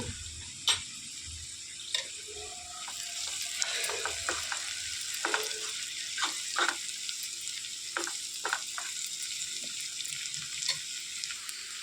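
Ginger garlic paste and turmeric sizzle softly in a pan, a low steady fry broken by intermittent spoon scrapes and knocks against the metal.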